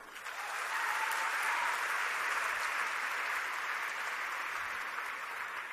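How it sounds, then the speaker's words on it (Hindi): An audience at an Evolve India gathering breaks into loud, dense applause, steady many-handed clapping that swells in quickly and holds evenly throughout without any voices. "जोरदार तालियां"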